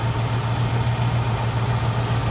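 A 1968 Ford Mustang engine with its original build apart from the carburetor and an added electronic ignition idles steadily nearby, a constant low hum with a smooth even drone and no voices.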